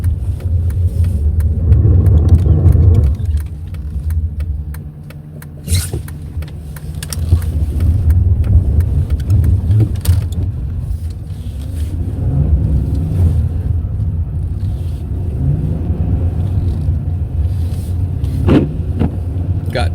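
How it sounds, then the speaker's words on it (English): A 2008 Dodge Charger RT with rear-wheel drive drives through snow, its engine rumbling and revving loudly up close with surges of acceleration and tire noise. "in my 2008 Charger RT rear-wheel drive."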